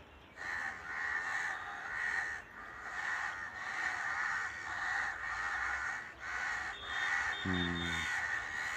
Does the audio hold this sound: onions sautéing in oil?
no